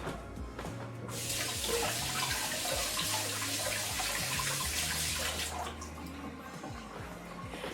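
A kitchen tap runs steadily to wet a hand, a loud, hissing stream starting after a second and flowing for several seconds before easing, with low hum underneath.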